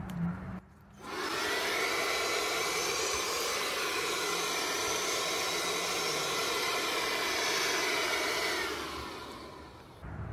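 A Ryobi workshop blower set to speed two roars steadily and loudly after a brief start, a broad airy rush that holds constant for about eight seconds before winding down.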